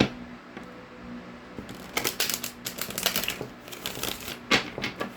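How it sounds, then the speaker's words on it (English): Tarot cards shuffled by hand during a reading, a run of quick, crisp riffling clicks and flutters that start soft and grow busy and loud, with short pauses between bursts. "Let me get you some good shuffles in"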